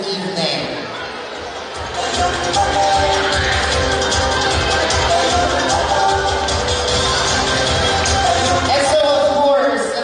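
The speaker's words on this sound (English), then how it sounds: "Let us give them a big round of applause." Audience at an evening Provincial Arts Month event in Danao, Cebu, breaks into loud, sustained applause with scattered cheers, swelling after a quieter opening and continuing steadily as a dense crowd wash.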